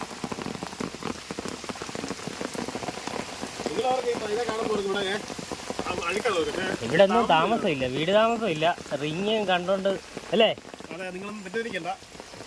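Steady rain pours down on a house front porch area during flooding, a continuous hiss throughout, with people talking over it in the foreground for most of the stretch.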